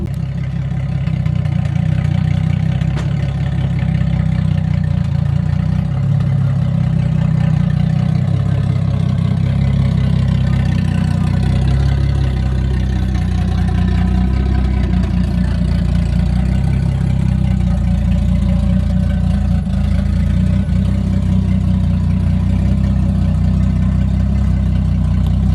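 A big-turbo 2JZ engine in a Toyota Crown idles steadily and loudly up close, a deep continuous rumble with slight fluctuations and a few light revs, running alone without talk.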